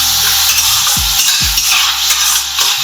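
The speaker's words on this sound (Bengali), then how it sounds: "এবার পেঁয়াজটা আমরা ভাজবো।" Onion frying in oil in a pan for chicken ghee roast, a loud constant sizzle with a couple of low utensil knocks, close by and continuous.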